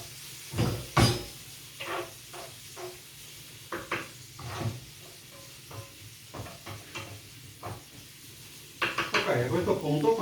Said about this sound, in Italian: tenete mescolata la pancetta, cercate di non bruciacchiarla